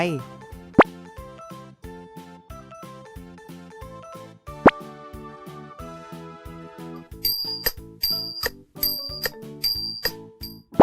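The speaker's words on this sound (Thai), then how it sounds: "เสียงของชิง ซึ่งเป็นเครื่องดนตรีไทยประเภทตีครับ" Bright metallic clinks from ching, small Thai cymbals, struck in a steady pattern alongside plucked and percussive tones, the ringing strokes sharp and close.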